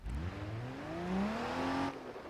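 A truck engine revs in the BeamNG Drive driving game while the stuck truck strains on a mountain slope, a steady close-up drone whose pitch climbs and holds, then drops off abruptly near the end.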